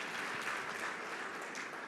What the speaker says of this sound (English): Just a round of applause for him,